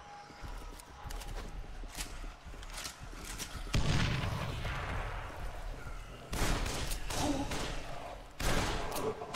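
Gunfire in the zombie video game Dead Island comes as several sharp bursts and booms, with heavy volleys spaced a few seconds apart and quieter game sounds and faint talk between them.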